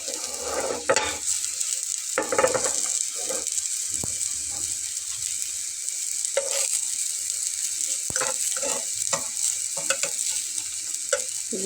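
An egg dish frying in a pan until reddish, a continuous close sizzle broken by several bursts of spatula scraping and stirring, moderately loud with no voice.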